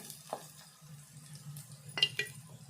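Ginger-garlic paste being stirred into onions and masala in a pan for an old-style chana dal and egg curry, with a low steady sizzle and a few soft scraping strokes, quiet and close, no talking.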